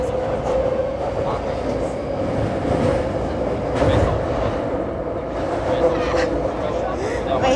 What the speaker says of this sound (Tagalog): This is the MRT here.